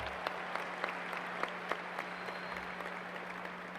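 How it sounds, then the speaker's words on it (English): A graduation crowd in a large hall applauds a student. The clapping is steady and somewhat distant, with a few sharper individual claps standing out over a low electrical hum. "Let's give a round of applause."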